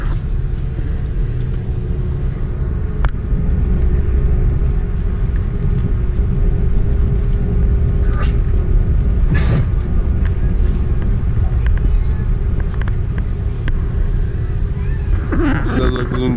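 Steady, loud low-pitched roar of an aircraft cabin in flight from Honolulu to Japan, a constant engine hum with faint clicks and rustles on top.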